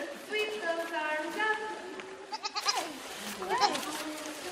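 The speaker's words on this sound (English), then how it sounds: "I think we might have some real baby goats today" Baby goats bleat repeatedly at an indoor goat yoga class, several wavering cries rising close by over a steady murmur of instructor talk and room noise.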